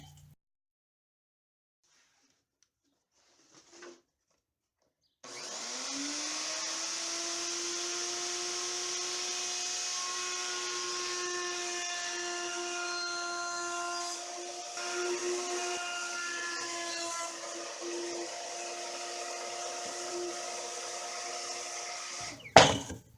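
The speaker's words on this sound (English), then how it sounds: "Now I'm going to get myself my round over bit, and I'm going to round over the edge" A power router with a round-over bit starts up and runs steadily with a high whining hum, cutting smoothly along a wood edge, then stops abruptly near the end.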